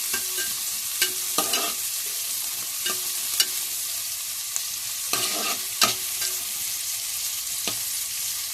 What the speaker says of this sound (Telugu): దాన్ని దోరగా వేయించుకోవాలి.